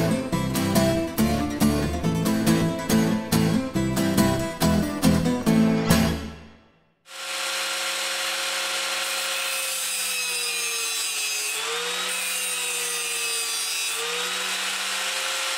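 Threaded rod and channel steel being ground: a run of rhythmic rasping strokes gives way, after a brief silence, to a steady, loud grinding whine that lasts to the end.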